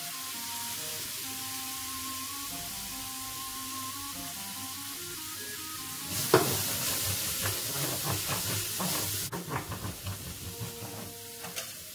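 Onion and oil fry in a pan, first a low steady background hum, then a sudden bright sizzling hiss with crackling pops that carries on to the end, with no talking.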